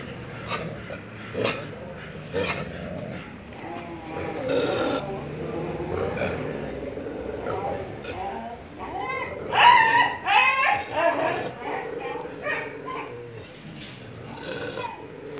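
Four street dogs quarrel at a home, giving irregular bursts of growls, whines and yelps of varying loudness, some sharp and close, over quiet background.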